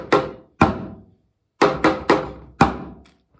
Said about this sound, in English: So we're gonna play on the side of the drum.